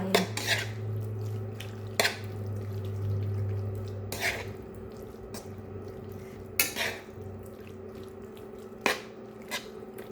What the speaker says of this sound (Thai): เราก็จะผัดหมูให้มัน สุกสักครึ่งหนึ่งนะคะ